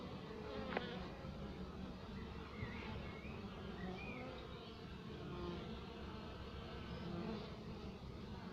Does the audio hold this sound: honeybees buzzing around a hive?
yes